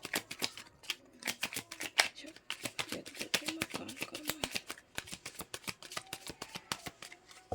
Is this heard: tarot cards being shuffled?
yes